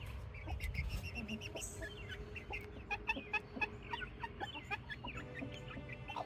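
Soft, high chirps and peeps from a young chicken at night, a scattered run of small calls close by over a low, steady rumble of background noise, with no talk.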